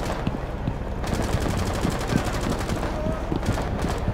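Rainbow Six Siege gunfire in a Border secure-area match, rapid automatic bursts crackling almost without pause over a busy in-game background, close and fairly loud.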